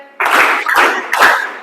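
Classroom of students clapping hands together on cue, three quick bursts of crisp group claps in succession, loud and close.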